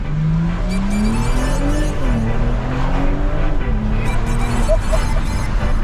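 A BMW 340i engine rumbles and revs steadily up and down close by while driving through narrow streets, loud and continuous, with the pitch rising and falling.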